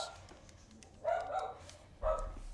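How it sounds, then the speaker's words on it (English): A house dog barks at something outside, two sharp, fairly close barks about a second apart over a quiet indoor background, with no talking. "There's my dog making his famous cameo because he likes to bark at everything goes outside our house."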